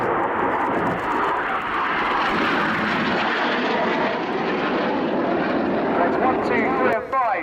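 Red Arrows RAF display jets at an air show roar overhead in a loud, continuous wash of engine noise that swells and holds, with a brief rising whine near the end as one jet rolls past.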